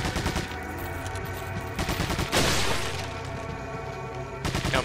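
Rapid bursts of rifle and automatic gunfire in the survival-horror game Resident Evil 4, dense and loud, with a heavy blast partway through and fire resuming at the end.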